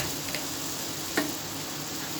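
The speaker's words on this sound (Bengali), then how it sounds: "এবার ছোট ছোট করে বড়া সেট করে করে এই যে বড়াগুলো দিয়ে দিচ্ছি কড়াইয়ে" Small banana flower fritters sizzle in hot oil in a wok, a steady, dense crackling hiss with one brief clink partway through.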